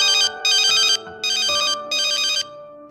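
A phone ringtone plays for an incoming call, bright electronic chimes repeating in four short bursts with brief gaps, loud and close, with no voices.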